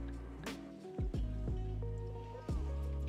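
Sparkling wine glugs and splashes from a bottle into a glass in a few close, quiet pours, with bubbling fizz between them.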